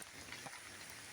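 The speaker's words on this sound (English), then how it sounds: "it is evening time and it is raining heavily" Heavy evening rain falls in a forest setting, a faint, even patter and hiss with no talking.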